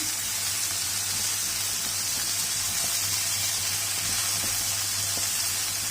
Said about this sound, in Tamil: லைட்டாக வதக்கி விட்டுக்கணும்.